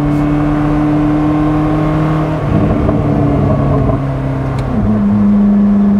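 Onboard a Koenigsegg Jesko, the engine roars loud and steady, holding a sustained droning pitch with a gear change partway through before pulling hard again.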